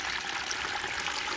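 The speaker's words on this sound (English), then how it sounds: "I'm going to fill it with water" Water pours steadily into a container holding a coir block, a continuous close splashing rush with no pauses or voices.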